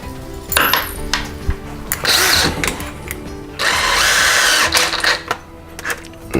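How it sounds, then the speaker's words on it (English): A power drill fitted with a masonry bit bores a plug hole in a wall while fitting roller blinds, whining in loud bursts broken by short pauses, with light clinks and handling noises between runs. "And then drill a hole for a plug."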